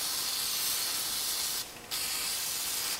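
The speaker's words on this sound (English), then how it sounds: "I often use WD or some cheap Walmart spray cleaner as a cleaner for my knives. I just blast them out." Close, loud hissing bursts of WD-40 or a cheap aerosol cleaner blast into a folding knife, two sprays separated by a short pause.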